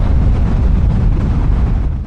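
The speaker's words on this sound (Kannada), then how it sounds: "ಭಯಂಕರ ವಿಂಡ್ ಬ್ಲಾಸ್ಟು ಆಪೋಸಿಟ್ ಸೈಡ್ ಇದ್ದರೆ ಕಷ್ಟ ಓಡಿಸೋದು" Heavy, continuous wind buffeting a microphone in Ladakh, a strong headwind; a dense low roar with rumbling gusts that holds steady and eases only slightly at the very end.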